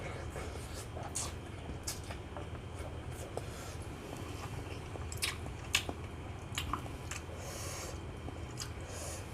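Close-up eating of instant noodles tossed with crispy pork rind: repeated wet chewing and slurping with scattered sharp crunchy bites, intimate and fairly quiet, continuing throughout.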